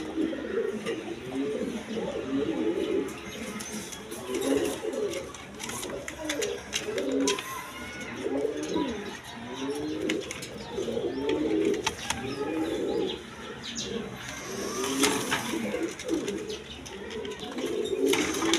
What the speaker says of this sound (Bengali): এক পেয়ার লাহোরি কবুতর আছে দেখার মতো